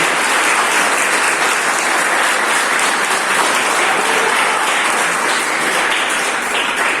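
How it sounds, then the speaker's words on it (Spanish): A church congregation applauds loudly and steadily for the full stretch, a dense continuous wash of clapping with no pauses and no talk. "Dale un fuerte aplauso al Rey de Reyes, al Señor de Señores."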